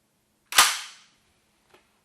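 A Sauer 303 semi-automatic rifle in 7x64 caliber fires one sharp, loud shot with a ringing decay, followed by faint mechanical clicks.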